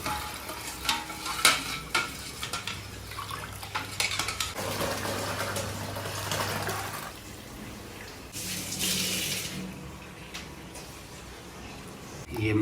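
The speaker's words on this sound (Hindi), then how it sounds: "परंपरागत तरीका है ये तड़का लगाने का, बघारने का उसको।" Tempering spices sizzle in a pan during traditional outdoor cooking of a simple sattvic meal, a steady hiss broken by clanking utensils, stirring and occasional splashing water, with people talking intermittently.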